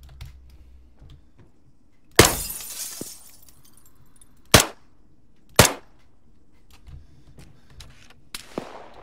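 Several sharp, loud shots ring out one at a time with long gaps between them, each a hard broadband crack over a low, quiet background.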